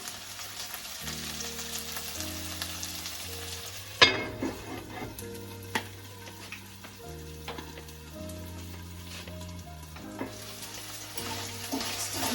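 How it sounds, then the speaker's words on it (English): Ackee and saltfish simmering in a covered pan, a steady soft sizzle running under loud melodic background music, with occasional clinks of utensils. "So leave it there, let it simmer."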